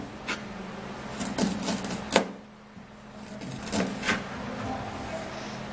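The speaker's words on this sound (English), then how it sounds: "So we're gonna be peeling up this garlic and ginger. We're gonna be cutting it in pieces." Knife cutting peeled garlic and ginger into pieces on a board, a few crisp scattered chops and scraping strokes, fairly quiet and close with no talking.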